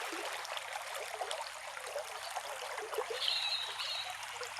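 A small stream running low on water outdoors, a continuous gentle rush and trickle at moderate volume, with a faint high chirp near the end.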